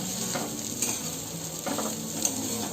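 Grated coconut frying in a pan with bitter gourd, stirred with a few scraping strokes over a steady, close sizzle.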